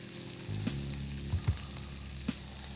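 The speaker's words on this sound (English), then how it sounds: "As the mustard oil has reached smoking point, I'm going to add sliced onion." Sliced onion hits smoking-hot mustard oil, setting off a sudden steady sizzle that holds close and loud, with a few soft clinks of a utensil over the frying.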